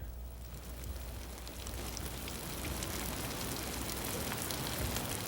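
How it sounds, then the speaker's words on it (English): A rainstorm in the Canadian wilderness falls steadily outdoors, a dense even hiss of rain that grows slightly louder over several seconds, with no voices. "A new day, a new rainstorm."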